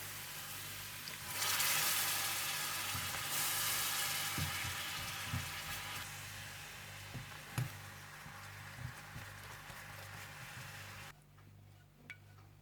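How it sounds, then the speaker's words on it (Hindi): Soy sauce and black pepper mixed into a barbecue honey sauce sizzle and bubble steadily in a pan, with occasional stirring clinks and scrapes, close and continuous before the sizzle drops away near the end. "सोया सॉस और काली मिर्चें, इसे मिलाकर आप पका लें।"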